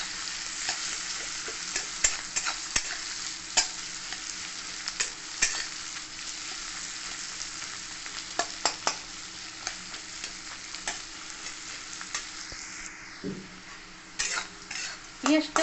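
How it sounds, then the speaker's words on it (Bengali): Chopped onions frying and being stirred in a pan for a home-style chicken stew, with a steady sizzle, frequent scrapes and clinks of utensil against the pan throughout, close and fairly quiet. "পেঁয়াজটা ভালো করে ভেজে নেব।"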